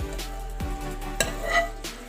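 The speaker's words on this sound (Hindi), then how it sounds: "तो चलिए जी, ये गर्मा गर्म तड़का हम उस कड़ी के ऊपर डाल देते हैं।" Hot spice tempering poured over kadhi in a home kitchen gives a short sizzle with a few clinks of a pot or ladle, close and moderately loud, with no talking.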